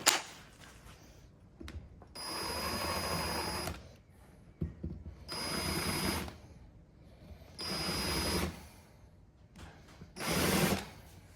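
A drill chamfering holes in metal whirs in four separate bursts of a couple of seconds each, with quiet pauses and small clicks between them.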